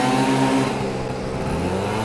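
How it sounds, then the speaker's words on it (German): A four-stroke scooter engine revs hard and close, a dense harmonic drone that swells at first then holds steady, loud and with no talking over it. "Ob man das jetzt so gehört hat, dass die Karre so am Knallen ist."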